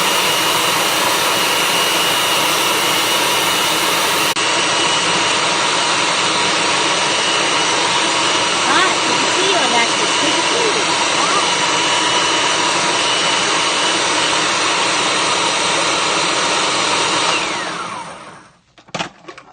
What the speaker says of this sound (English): So let me mix it a little bit longer.